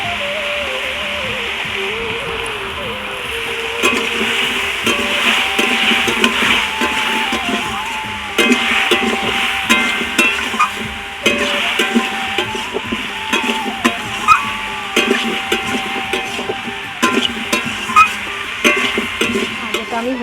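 Raw pumpkin and soybean pieces stirred and fried in oil in a pan with salt and turmeric, a loud close sizzle broken by repeated scraping and clattering spatula strokes.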